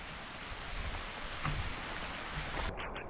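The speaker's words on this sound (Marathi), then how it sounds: "पुन्हा एकदा जोरदार पावसाला सुरुवात झालेली आहे।" Heavy rain pours steadily at a hill fort beside a water tank, a dense, even roar of falling water mixed with wind buffeting, continuous and fairly loud throughout with no voices.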